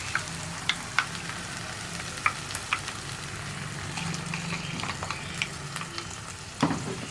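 Ground masala paste and hot water go into a hot pan for a drumstick masala curry, giving a steady soft sizzle with occasional clicks and stirring knocks and a louder splash near the end.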